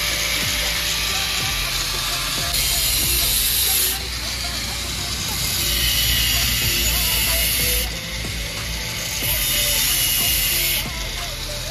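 A gas torch hisses steadily while cutting a bend pipe for a Hero Xtreme 125R motorcycle exhaust. The roar swells and eases in long surges, with faint mechanical clicks underneath.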